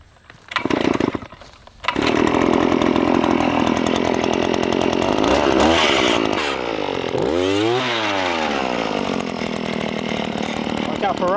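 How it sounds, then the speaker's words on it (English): A loud gas-powered drill roars steadily for several seconds while boring holes in wood, its engine pitch swooping up and down as it bores in close. "And then start drilling some holes."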